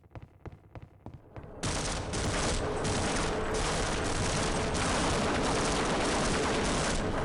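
Turret gunfire in Half-Life: Opposing Force: a few sharp separate shots at first, then a dense, continuous roar of rapid fire that stays loud and unbroken to the end.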